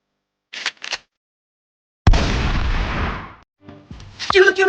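A gunshot fired during Independence Day celebrations cracks out loud and close after two short sharp pops, its blast ringing and decaying for over a second, followed by clattering and bright noisy sounds.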